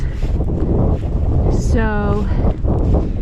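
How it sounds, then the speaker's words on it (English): Strong gusty wind roars across an exposed, cloud-covered summit on Big Bald along the Appalachian Trail, buffeting the microphone in a steady rushing blast, with a brief tonal whine cutting through midway. "I don't know if you can still hear that wind"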